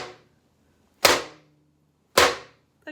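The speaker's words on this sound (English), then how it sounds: "I'm gonna bang it pretty loudly, so cover your ears if you're sensitive to sound." A metal spoon striking a pan hard, two loud sharp clangs about a second apart, each ringing out and fading, followed by a smaller tap at the very end.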